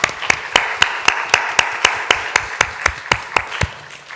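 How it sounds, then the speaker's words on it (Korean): A church congregation gives a short round of applause at a Sunday worship service. Even, rhythmic clapping from a small group sounds steady, fairly loud and close, with no talking over it. "한번 격려의 박수를 한번"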